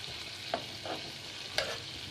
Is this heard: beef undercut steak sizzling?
yes